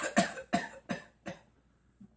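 A person imitates a real cough, giving four sharp loud coughs spaced about a third of a second apart, then a faint breathy sound at the end.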